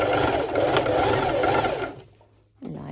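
A sewing machine set to a short stitch length runs fast and steadily as it stitches leggings fabric, stops near the two-second mark, and a voice then begins speaking.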